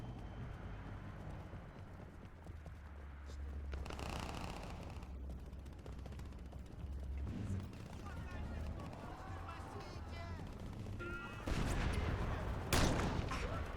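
Explosive grenade-gun blasts and gunfire rumble through Crackdown gameplay, with heavy booms scattered across the scene and a loud burst near the end, while a person talks over much of it.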